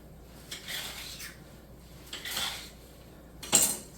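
A knife cuts through a bunch of washed kale on a board, three separate chopping strokes spaced about one and a half seconds apart, the last one sharpest and loudest, close up with no talking.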